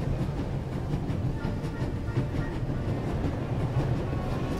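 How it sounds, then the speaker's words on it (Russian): A train runs along rails in The Raven: Legacy of a Master Thief, a steady, fairly loud rolling rumble with faint rhythmic clatter of wheels on track, continuous throughout with no voices. "Поезд бодренько бежал по рельсам."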